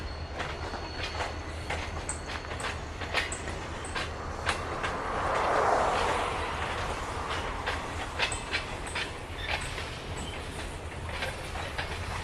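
Freight cars rolling past steadily, with rhythmic clickety-clack of wheels over rail joints and a swelling rumble midway as cars go by.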